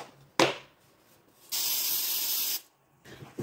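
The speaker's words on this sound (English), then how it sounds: "When I'm spraying the art piece, I kind of like to be from the side" Fixative spray hisses steadily onto an art piece laid over paper towels, one sustained burst of about a second, close and fairly loud, following a short sharp handling noise.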